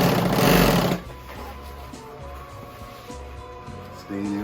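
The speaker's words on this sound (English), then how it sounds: "It's got a walking foot, the sewing machine, so it'll pull it through for you." A walking-foot sewing machine stitching a cushion runs in a loud burst at the start, then quieter mechanical hum and clicks follow with short pauses before it starts up again.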